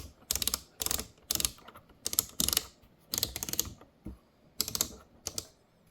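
Clicky detent dials on a MOZA R16 direct-drive sim racing wheel, turned in about nine short bursts of rapid crisp clicks, close and moderately loud, with no talking.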